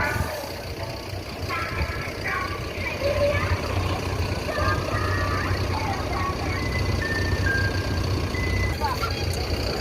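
A new Palala bus with Laksana coachwork rolls in, its engine rumbling low and steady while horn-like tones and beeps sound intermittently nearby amid outdoor bustle.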